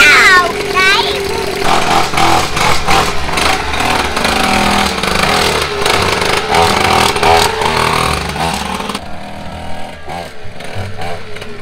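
A motorcycle engine runs loud and close with a rough, sputtering idle and brief revs, under overlapping talk, then cuts out near the end, leaving quieter voices.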